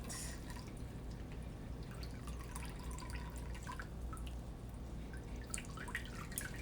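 Ginger turmeric juice drips and trickles as the pulp is squeezed out, with soft liquid patter over a low steady background hum.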